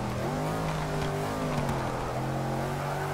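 A smooth, steady car engine in Forza Motorsport 6 drones continuously at moderate loudness, its pitch shifting slightly as the revs change, with no talking.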